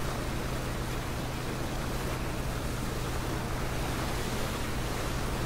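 Steady, even boat motor drone over water in PlayerUnknown's Battlegrounds, a slow game boat, holding a constant broad hum with a low tonal core throughout, with no talk.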